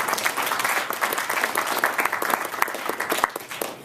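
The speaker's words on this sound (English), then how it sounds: "You can applaud." Crowd of conservative supporters in Schuylkill County applauding a political speaker, a loud sustained burst of many hands clapping with sharp individual claps standing out, filling several seconds with no talk.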